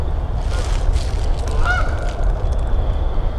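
A goose gives a brief honk outdoors in the woods, mid-distance and fairly faint, against a loud low rumble of wind and background noise.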